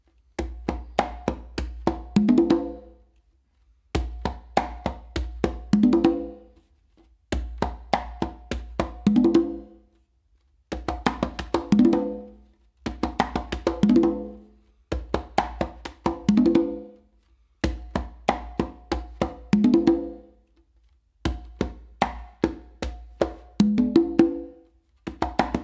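Conga drums played with open tones across three drums, a repeating pattern of sharp, ringing hand strikes in evenly spaced bursts, each phrase separated by brief silence, played alone and close up.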